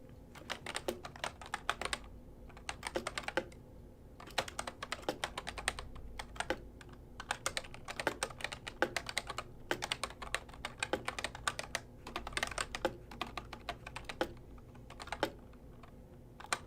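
Rapid clicking of a computer keyboard, close and crisp, arriving in bursts of quick keystrokes separated by short pauses over about seventeen seconds, with no voices.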